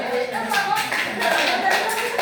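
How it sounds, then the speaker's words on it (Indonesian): A group in a classroom claps in a short burst of applause, hands patting fairly close, with some voices mixed in. "oke tepuk tangan dulu"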